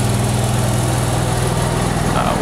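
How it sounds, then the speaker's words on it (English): An Onan 5500 generator runs on a 2018 Thor Hurricane 29M motorhome with a V10 Ford chassis, a steady close droning hum with a pulsing low throb, loud and unchanging throughout. "You can hear the generator running right now, and that's an Onan 5500."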